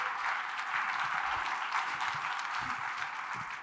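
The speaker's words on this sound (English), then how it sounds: "Round of applause for Joshua," Audience applause at a RailsConf keynote on improv, a steady wash of many hands clapping across the room, fairly distant and even in level, with no talk over it.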